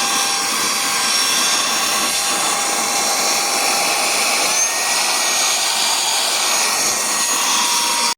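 A mini handheld car vacuum cleaner from AliExpress runs continuously at close range, a steady loud whirring motor hiss with a faint high whine and no breaks.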